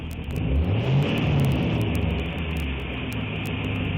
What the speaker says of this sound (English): He was fumbling around and kept revving the engine.